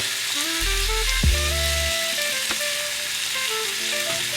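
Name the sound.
food sizzling while cooking on a salt block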